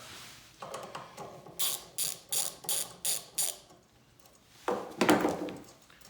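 Ratchet wrench loosening a 10 mm nut on a Honda GX160 engine, a run of about six close, crisp clicking strokes followed by a louder scraping burst of metal.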